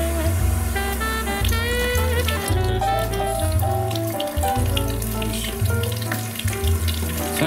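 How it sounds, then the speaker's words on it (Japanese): Pork cutlet (tonkatsu) deep-frying in oil at low temperature, a steady, dense bubbling hiss that runs throughout, partly masked by louder background music. "10分ほど揚げてみます。 低温で揚げるのがいいみたいですね。"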